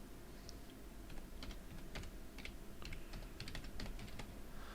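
A password is typed on a computer keyboard, with quick, irregular key clicks coming in short bursts at close range, fairly soft, and no voices.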